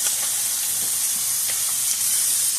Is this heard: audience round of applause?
no